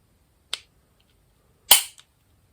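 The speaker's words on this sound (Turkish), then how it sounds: "Evet, bunda da bir atış yapacağız." Two sharp cracks from a pistol bought at auction, fired as test shots, come about a second apart against near silence, with the second louder and followed by a faint tail.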